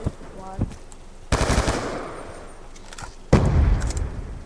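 Rapid bursts of M27 rifle fire in a fast-paced first-person shooter match, two loud automatic volleys separated by brief pauses, with faint game sounds between them.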